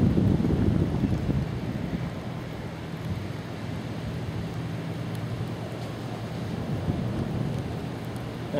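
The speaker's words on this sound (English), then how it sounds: "we picked the perfect day for the beach when it's pouring rain" Pouring rain at Clearwater Beach on the Gulf Coast hisses steadily, with gusty wind buffeting the microphone and a low rumble from surf or distant thunder, heard without speech.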